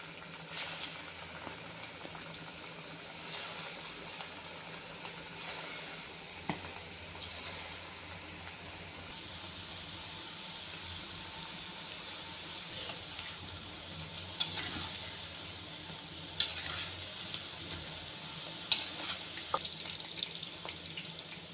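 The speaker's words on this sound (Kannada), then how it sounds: "ಎಣ್ಣೆ ಕಾದಿದೆ, ಇವಾಗ ಹಾಕ್ಕೊತೀನಿ ಇದು ಕರಿಯೋಕ್ಕೆ" Chicken kebab pieces frying in hot oil give a steady, soft bubbling crackle that runs unbroken and alone, with a few sharper pops along the way.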